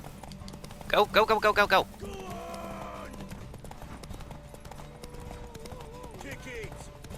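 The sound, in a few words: horse galloping in The Witcher 3 horse race, video game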